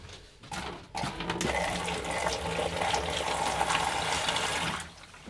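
Water-based liquid is poured into the toilet trap of a Forest River Wolfpack camper during winterizing, a steady splashing pour lasting several seconds at close range before stopping.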